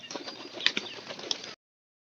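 Pigeons flap their wings in a quick fluttering burst, close and soft, ending abruptly.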